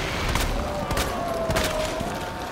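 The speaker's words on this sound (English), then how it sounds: "I'm shooting it" Rapid bursts of gunfire from the survival horror game Resident Evil 2 Remake, loud and close, a dense volley of booming shots over a steady backdrop.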